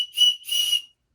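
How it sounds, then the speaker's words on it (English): Small whistle built into a budget preparedness stocking stuffer, blown in two short shrill bursts, close and fairly clear, not very loud, then silence. "And it got a whistle, too, on it"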